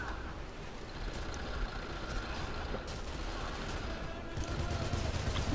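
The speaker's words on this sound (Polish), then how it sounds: "Sobie tutaj siedzę i z tej z wieżyczki strzelam." Turret gunfire in Sniper Elite V2, a dense, rumbling stream of rapid shots with a few sharper cracks, continuous and moderately loud against a busy game background.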